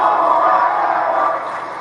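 A wrestling crowd roars in a steady, dense wash of cheering that stays loud throughout and eases slightly near the end.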